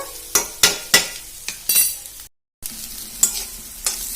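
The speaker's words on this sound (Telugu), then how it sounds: "కాకరకాయ ముక్కలు వేసుకున్న తర్వాత మంచిగా కలిపేసుకొని కొంచెం మంచిగా ఇవి అయితే ఫ్రై కావాలన్నమాట" Bitter gourd pieces frying in a pan, close and loud, with a series of quick stirring scrapes and clacks over a steady sizzle and a brief gap of silence midway.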